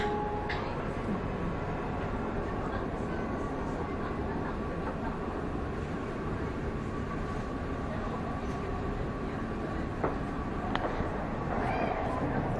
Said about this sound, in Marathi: दुबई मेट्रो मध्ये राईड चालू आहे आपली.